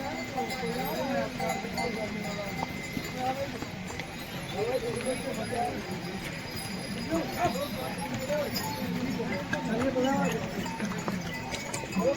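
Horses carrying pilgrims clip-clop along the mountain trek path to Yamunotri in an uneven, continuous patter of hooves, moderately close, under nearly constant talking.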